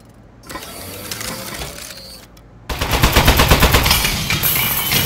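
A turret fires in Aperture Desk Job, starting with mechanical whirs and clicks and then breaking into a loud, rapid, close burst of machine-gun fire.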